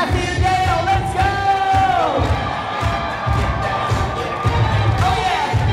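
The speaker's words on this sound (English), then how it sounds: "Now while you're clapping your hands, all eyes on the double doors, let's kick it off" Wedding reception guests cheer and clap loudly as the couple enters through double doors, a dense crowd roar with whoops and yells, music and an announcer's voice running underneath throughout.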